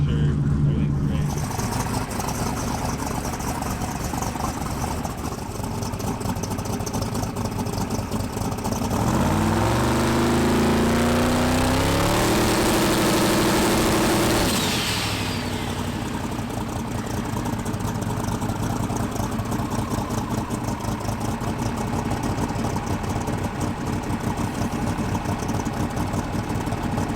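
A drag car's engine idles steadily and loud before its first pass, with a swelling revving surge in the middle as the throttle is blipped, and voices talking over the mechanical drone.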